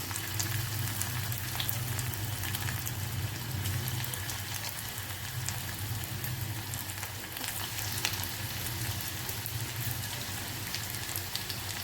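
Soya chunk pakoras deep-fry in hot oil, making a constant soft, bubbly sizzle like light rain that continues evenly through the whole stretch. No one speaks.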